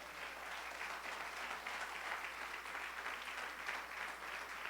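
A church congregation claps together, a steady dense wash of applause that holds at an even level for the whole stretch, with no voices standing out.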